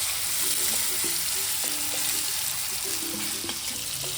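Onion masala sizzles steadily in a pan as tomato and curry leaves go in, with a dense, close frying hiss and a few light clinks and stirring sounds scattered through it.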